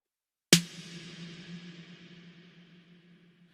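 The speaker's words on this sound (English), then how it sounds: "So we have more of a high frequency reverb from this snare than we do to this snare." A single electronic drum snare hit, a sharp close crack followed by a long bright reverb tail that slowly fades over a few seconds.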